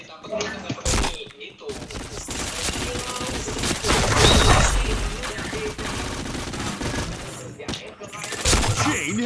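Dense bursts of automatic gunfire and rapid shots fill a shooter video game, with overlapping volleys and impacts. The bursts are continuous and fairly loud, with a voice talking faintly underneath.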